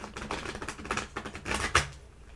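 Tarot cards are shuffled in a quick burst of papery riffles and soft clicks, close and fairly quiet, with no voices during the sound.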